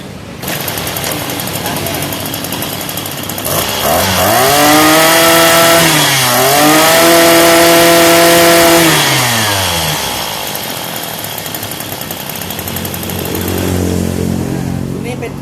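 Used Japanese Maruyama BC20T brush cutter two-stroke engine running loud and close, revving up into a high buzzing whine mid-clip then easing back to a rough idle, with someone speaking over it.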